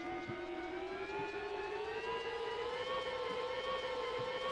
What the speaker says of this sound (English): spin up the flywheel with the hand crank